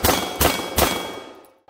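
Three quick shots from an unsuppressed Staccato DPO pistol striking a steel target, loud and evenly spaced, the last report ringing out and fading.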